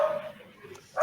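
Dogs bark in a room while a draft broadcast plays in the background, with a couple of moderately loud barks at the start and end that carry under light background sound.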